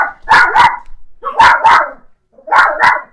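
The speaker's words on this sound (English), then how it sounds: "Sorry, the dogs, neighbors." Several dogs bark loudly close by in three paired bursts, two sharp barks each time with short pauses between, and no voices are heard.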